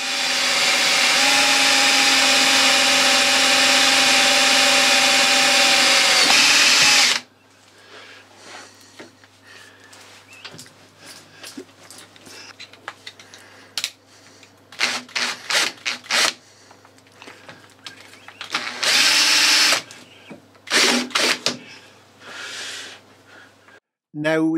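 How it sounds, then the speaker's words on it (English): A loud, steady high-pitched whine of a small power drill with a 3mm bit runs for about seven seconds, then cuts off, leaving quiet clicks and handling noises. "Just put a centre drill mark there, and then I'll change to a 3mm drill."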